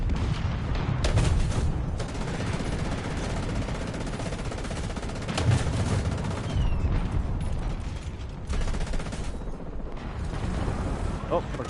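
Dense, continuous barrage of artillery and gunfire in the War Thunder video game, a loud rumbling wall of booms and rattling shots with a few sharper blasts standing out, and a voice talking underneath.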